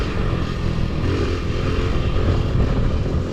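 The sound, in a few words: mini stunt motorcycle engine running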